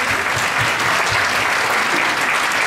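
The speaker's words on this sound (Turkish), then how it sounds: "bir alkış rica ediyorum lütfen sizlerden" Loud, sustained applause from a concert audience at a performance in Uşak, a thick, even roar of many clapping hands heard close and unbroken throughout.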